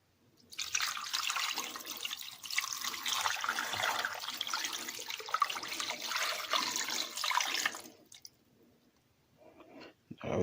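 Water runs steadily from a tap into a container for several seconds, measuring four cups for a crock-pot recipe, then cuts off, leaving quiet with a few faint clinks.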